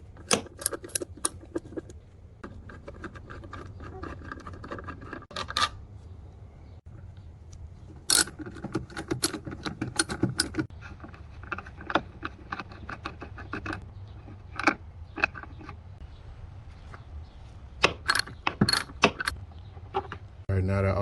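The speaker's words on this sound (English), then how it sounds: "First you want to remove these screws using a 10mm socket." A 10mm socket wrench loosens screws on the windshield wiper transmission assembly of a Chevy HHR, giving scattered metallic clicks, rattles and jangles at close range over a low background rumble.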